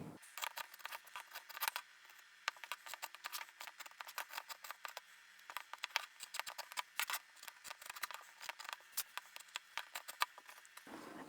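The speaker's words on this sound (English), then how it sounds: "Then we're going to snip into the corner as close to the stitching line as you can get" Sharp scissors snip repeatedly into a fabric corner close to the stitching line of a small sewn cosmetic pouch, a quick run of crisp close-up cuts with short pauses between them.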